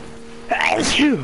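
A single close, loud sneeze bursts out after a brief quiet stretch with a faint tone, then trails into a voiced exhale.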